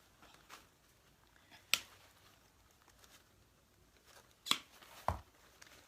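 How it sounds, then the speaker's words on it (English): Scissors snipping dahlia stems short, a few sharp, isolated cuts spaced seconds apart in a quiet setting, close and crisp with faint rustling between them. "you're going to cut these short"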